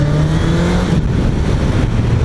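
A 1981 Honda CB750F motorcycle engine with freshly synced carburettors runs loud and close, a dense steady roar with a slight rise and fall in pitch.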